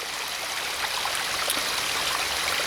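Water pours steadily over a small falls in a stream feeding a pond, a continuous broad rushing splash that stays close and even throughout, with no voices.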